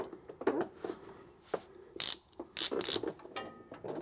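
Ratcheting wrench work on QA1 sway bar mounting bolts, heard as scattered clicks and metallic knocks with a few louder bursts of bright ratchet chatter, close up, with no speech.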